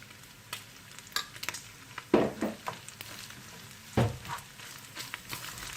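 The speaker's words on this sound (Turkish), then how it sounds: "Güzelce hepsini karıştıracağım." Ground meat and spices being stirred in a pan for içli köfte filling, with soft scraping strokes and a light sizzle coming in irregular bursts, with no voices.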